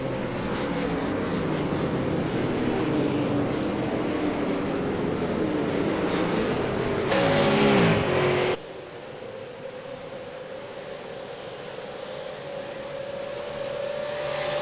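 V8 touring race car engines accelerate on the Canadian Tire Motorsport Park circuit, a steady loud drone with rising pitch, a brief louder surge as a car passes close, then a quieter sustained whine.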